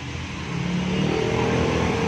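A Suzuki Raider 150 Fi motorcycle engine, fuel-injected with a dirty throttle body, idles and then rises in a revving surge, heard close and steady.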